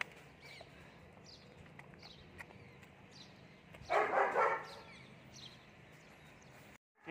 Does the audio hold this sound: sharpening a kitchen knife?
no